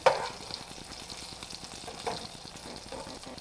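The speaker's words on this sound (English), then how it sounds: "Put it into the hot pan over medium-high over 3 or 4 minutes to get them golden brown." Breaded pork schnitzel fries in a hot pan over medium-high heat, a close, steady sizzle with crackling spatters and occasional stirring or scraping sounds.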